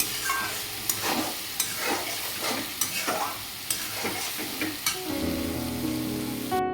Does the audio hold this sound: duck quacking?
no